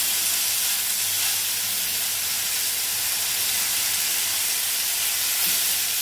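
Steaks sizzling in a grill pan, a continuous, even hiss with no break and no one talking.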